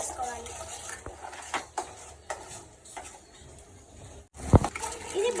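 Spatula stirring egg chicken fried rice in a pan, street style, with scattered scraping strokes and a sharp metallic clink near the end, under faint background talk.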